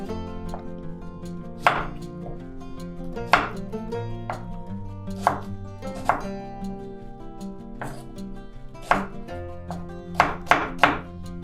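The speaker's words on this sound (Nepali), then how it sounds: "अब प्याजलाई पनि काटौँ" A knife chops onion into cubes for a Nepali green salad. Sharp, close cuts hit the board every second or so, quickening into a quick run of chops near the end. Soft tonal music plays underneath, and nobody speaks.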